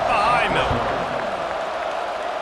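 A stadium crowd in the College Football 26 game, Indiana vs Maryland, roars as a broad, steady wash of cheering under a commentator's voice.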